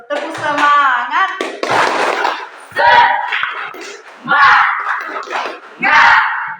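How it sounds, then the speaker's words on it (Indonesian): Schoolchildren in an Indonesian primary classroom perform the rhythmic spirit clap, bursts of patterned hand claps alternating with shouted chant, loud and close, with a teacher's voice leading between rounds. "Ya, tepuk semangat. Tepuk semangat."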